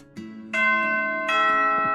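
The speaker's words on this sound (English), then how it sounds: "The final bell rings, signaling the end of the school day." School bell ringing in a video game, a tonal bell chime rising in two bright struck stages over a low sustained tone, loud and clear with no talk.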